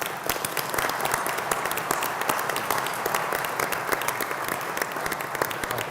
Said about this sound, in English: give a big round of applause for Uli Linder for his service.